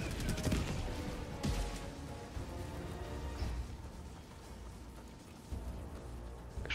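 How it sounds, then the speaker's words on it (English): Distant mortar strikes in the video game Helldivers 2 thud and rumble in scattered bursts under a steady crackling barrage of battlefield noise, with heavier impacts near the start and end. "Got my mortars going off already."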